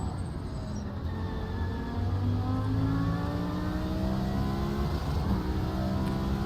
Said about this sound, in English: And you hear the engine just getting stressed out.